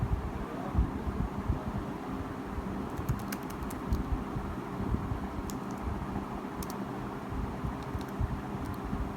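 Fingers tapping out an email address on a computer keyboard, with soft, irregular key clicks in short bursts over a faint background rumble, no voices.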